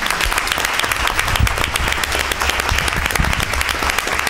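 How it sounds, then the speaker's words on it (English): Sustained audience applause at a school board of education meeting, a dense even patter of many hands clapping together at close range throughout, without talk. "Let's give them all another round of applause."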